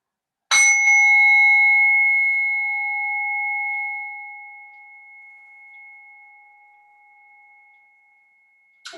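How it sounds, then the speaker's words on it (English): A single bell rings once to close a yoga session, striking clearly and then sustaining a pure, ringing tone that fades slowly over about eight seconds in an otherwise silent room. "In a moment, you'll hear the sound of the bell."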